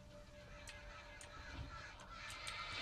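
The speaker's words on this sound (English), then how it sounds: "Why is there so many crows?" Several crows caw in the Alan Wake video game, sharp calls coming at intervals near 0.7, 1.2, 2.0 and 2.5 seconds over a steady ambient outdoor hum, with no talking.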